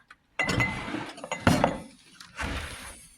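Glassware and stemware clink and rattle as they are shifted in a drawer, a cluster of bright chinks and clatters in two bursts with a short pause between, close by.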